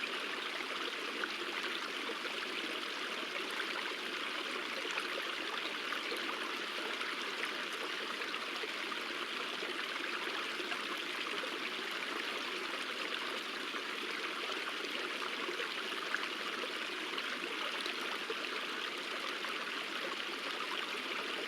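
A river stream flows in a steady, even rush of water, a constant broadband hiss with soft trickling, moderately distant and uninterrupted, with no voices heard.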